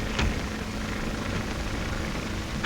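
A 1935 skywriting airplane's propeller engine runs as it takes off, a steady loud broadband drone holding throughout with no voices.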